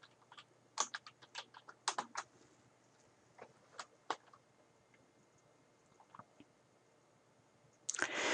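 Keys on a computer keyboard tapped while entering text into a spreadsheet cell, a sparse run of quiet clicks in short bursts, then a louder clatter of several keystrokes at the end.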